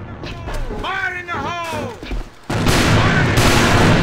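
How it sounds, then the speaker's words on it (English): Grenade explosions in the competitive shooter AVA during an ESL tournament match: a voice talks briefly, then a loud, sustained roar of overlapping blasts fills the rest of the moment. "then he got naded by 3 nades"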